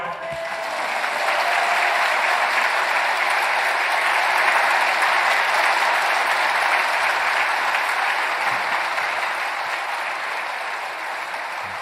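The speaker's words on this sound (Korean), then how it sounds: "나오실 때 뜨겁게 박수해 주세요" A church congregation at a Wednesday worship service applauds warmly as the senior pastor comes forward. The clapping is loud, continuous and sustained for around twelve seconds with no break.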